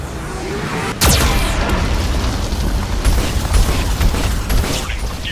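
Heavy Geth cannon blasts from Mass Effect 2, a sharp explosive boom at about one second followed by a sustained loud rumbling roar and scattered crackling impacts throughout.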